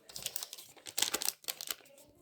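A paper surprise packet crinkles and rustles up close as it is handled and picked out, in a series of short, uneven bursts of crackling with brief pauses between.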